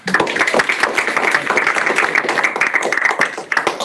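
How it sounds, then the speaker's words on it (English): Sustained audience applause at a Sydney CocoaHeads developer meetup, following a talk, as a dense, steady wash of many hands clapping in a room, loud and continuous with no talk over it. "Another round of applause for that talk."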